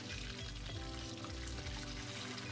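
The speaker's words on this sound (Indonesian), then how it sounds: "Sekarang kentangnya ini akan saya goreng terlebih dahulu" Small potatoes frying in oil over a low flame, giving a steady, close, continuous bubbling sizzle with a fairly loud broadband hiss throughout and no talking.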